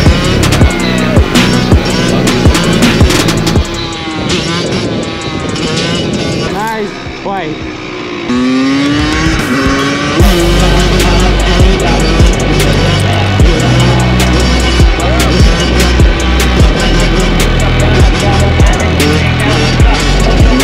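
Kawasaki KX85 pit bike engine buzzing and revving while ridden, loud and close with rising and falling pitch as it shifts, heavy wind noise, and a rider talking over it.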